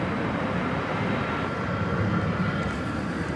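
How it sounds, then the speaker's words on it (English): A China Airlines Boeing 747-400 cargo jet at DFW Airport produces a steady, broad engine roar that holds evenly throughout without letting up. The sound is loud and constant, and no one speaks. "That is an aircraft that came in whilst we were setting up this evening. China Airlines cargo flight 5265 off to Anchorage. An 18-year-old 747-400."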